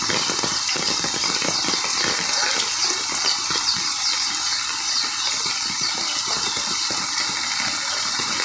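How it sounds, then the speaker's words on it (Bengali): Overnight rainwater gushing and flowing steadily, a loud, continuous broadband rush with no pauses and no voices. "এই যে পানি এই দিক দিয়ে এইভাবে এই যে গড়াইতেছে,"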